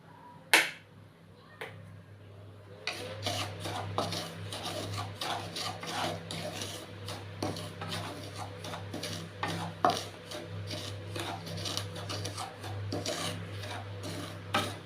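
Semolina stirred briskly in a pan over a raised gas flame for upma, giving a continuous dry scraping and rasping with frequent sharp spoon strikes against the pan and a steady low burner hum beneath.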